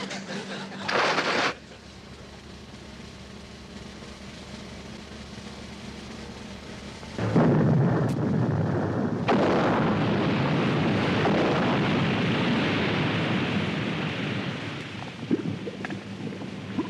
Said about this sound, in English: Fire depth charges!